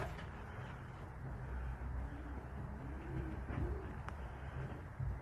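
Pigeons coo steadily in a backyard coop during a daytime walk-through, with several soft, low rolling calls overlapping near the listener against a constant low hum.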